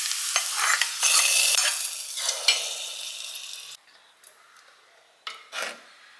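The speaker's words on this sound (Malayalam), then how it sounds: "നമുക്ക് അതിലേക്ക് വെളിച്ചെണ്ണയിൽ ചെറിയ ഉള്ളി അത് വഴറ്റിയിടാണ് വേണ്ടത്" Small shallots sauté in coconut oil, a close sizzle churned by scraping stirs that fades partway through, leaving short bursts of stirring and clatter.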